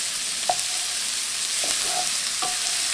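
Onions fry gently over low heat in a frying pan for German potato salad, an even close hiss of sizzling with a few brief soft scrapes of stirring.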